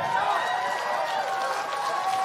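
A room full of people applauding: steady, dense clapping that holds at an even level throughout, with a faint murmur of voices underneath.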